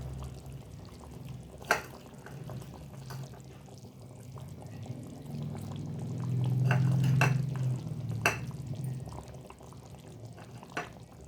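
Fish curry, chepala pulusu with fresh coriander, is stirred in a pot, soft liquid sloshing and simmering with a few sharp utensil taps against the pot and a louder swirl midway.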